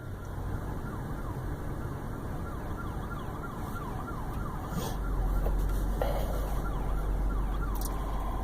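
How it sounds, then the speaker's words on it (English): Several police cars with sirens wailing during a traffic stop; a continuous rising-and-falling siren sweep over a steady rumble of idling engines and road noise, getting louder midway through. "You got all these cops coming and sirens going."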